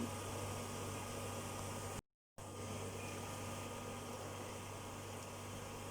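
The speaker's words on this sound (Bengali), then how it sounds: "আমি এটা ওলট পালট করে একটু ভেজে নিচ্ছি।" Potato balls fry in hot oil in a wok, giving a steady, dense hiss and bubbling that runs on evenly, with a brief cut to silence partway through.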